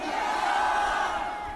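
A crowd of supporters at a rally shouts together in a sustained roar, loud and close, holding steady for the whole moment before easing slightly at the end.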